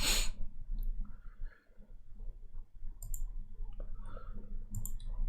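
Faint computer mouse clicks, a few quiet taps spaced apart under soft room noise and breathing, with no talking.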